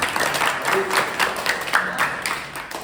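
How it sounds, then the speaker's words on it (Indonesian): Classroom applause from a group of students after a long jump lesson, a moderate wash of scattered clapping heard from a short distance, with some murmured voices underneath. "beri tepuk tangan"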